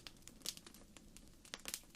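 Thin, fragile letter paper is unfolded after its seal is broken, making soft, faint crinkles and rustles in small clusters with brief pauses between them.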